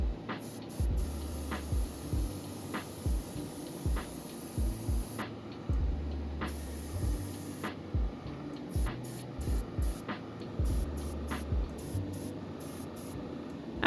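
Gray primer is sprayed onto craft pieces in bursts, each hiss short and fairly close, repeating in an uneven rhythm over a steady low room hum with no talk.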